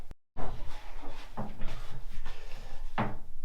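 An old wardrobe front reused as a cupboard door in a historic château coach house swings open with a woody creak and knock, followed by a few softer wooden bumps and rattles, close by with no talk.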